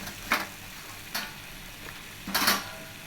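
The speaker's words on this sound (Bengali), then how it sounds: "এবার বেগুনগুলোকে দিয়ে দিলাম আর ঝিঙেগুলোকেও দিয়ে দিলাম" Eggplant and ridge gourd fry in a pan for a Bengali chachchari, with three distinct scraping stirs over a faint, steady sizzle and no voices.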